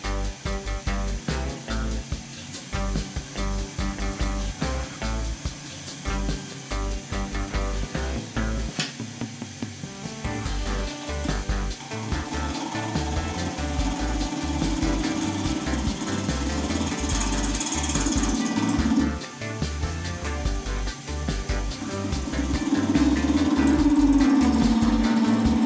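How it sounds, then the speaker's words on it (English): A lathe turns a resin handle blank, making a continuous droning whir with rapid rhythmic chatter and tapping as the tool bites, growing louder and more tonal toward the end. "Turn the lathe up a bit."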